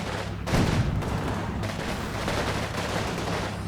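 Sustained gunfire from a soldier in a war video game, a dense, steady clatter of shots and distant booms running throughout at moderate loudness, with a brief heavier burst near the start.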